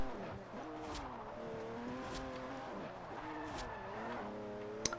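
A weak car drifts in Forza Horizon 2 on Xbox 360, its engine revving steadily with pitch rising and falling, a few short tire squeals cutting through, and a sharp knock at the very end.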